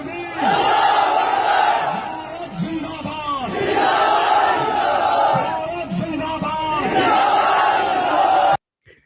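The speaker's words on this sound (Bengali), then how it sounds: "সেখানে মুসলিমরা সম্পৃক্ত হয়েছে নারায়ে তাকবীর স্লোগানের মাধ্যমে" Protest crowd chanting the Nara-e-Takbir slogan in rhythmic waves at a student movement rally, many voices shouting together loudly and close, with repeated surges and brief pauses before an abrupt cut.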